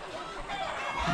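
Chickens clucking close by, a short burst of fowl sounds with no talking.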